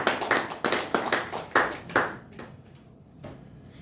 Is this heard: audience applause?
yes